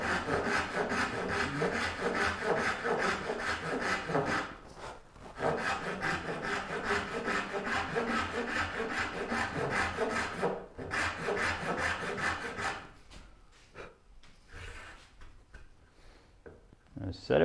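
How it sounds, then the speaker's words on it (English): A gent-style hand saw cutting wood for a rough dovetail joint on a rolling cabinet base, giving steady close rasping back-and-forth strokes that pause briefly, then fade into quieter scraping near the end. "People, I guess, badmouth these gent style saws, but once you, they're not that hard to use."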